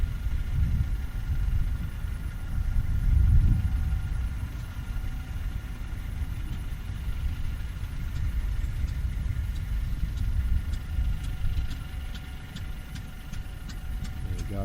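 A Fairbanks 208 engine on an oil-well pulling unit runs steadily after its flywheel is spun, a continuous low rumbling drone with a faint rhythmic knock and a slight swell near the start, heard outdoors without talk.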